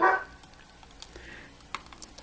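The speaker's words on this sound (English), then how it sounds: "Keep barking at chickens." A dog barking at chickens gives one short, sharp bark at the very start. Quiet kitchen clinks and light rustling follow at low volume.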